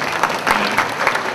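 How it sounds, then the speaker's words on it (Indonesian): Audience applause at an Indonesian creative products exhibition event, a steady burst of dense clapping from a large crowd throughout, fairly loud and close with no talk over it. "mari kita berikan tepuk tangan yang sangat meriah."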